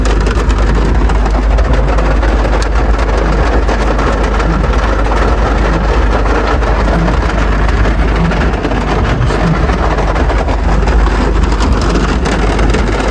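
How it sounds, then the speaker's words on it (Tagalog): Heavy rain drums steadily on a vehicle throughout, a dense continuous wash with a low engine-like rumble beneath and no talking. "Malakas na po yung ulan."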